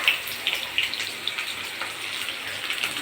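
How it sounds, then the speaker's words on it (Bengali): Chopped raw onions frying in a pan, a steady close sizzle with small pops and crackles scattered through it, continuous and alone with no talk. "কাঁচা পেঁয়াজগুলো দিয়ে দিলাম, সেগুলো কেটে নিয়েছি। এবার এটা ফ্রাই হবে ভালোভাবে"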